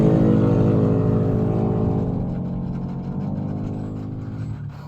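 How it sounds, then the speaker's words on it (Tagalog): Steady stream of road traffic outside a house, engines droning and swelling continuously as many vehicles pass nearby, loud throughout with no talking. "Daming sasakyan na dumadaan"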